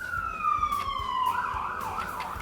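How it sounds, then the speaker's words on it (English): Emergency vehicle sirens pass by outside at a moderate distance, a long falling tone that shifts into a warbling wail, heard alone without talk. "We have sirens going by."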